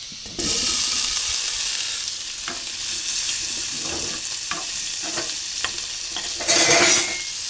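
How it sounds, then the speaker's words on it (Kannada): Paneer frying in unsalted butter, heard as a close, steady sizzle with a sudden loud onset, repeated soft scraping stirs through the middle and a brief louder hiss near the end, with no voices. "ಚೆನ್ನಾಗಿ ಫ್ರೈ ಮಾಡ್ಕೊಳ್ಳಿ. ಗೋಲ್ಡನ್ ಬ್ರೌನ್ ಬರೋವರೆಗೂ ಫ್ರೈ ಮಾಡ್ಕೊಳ್ಳಿ"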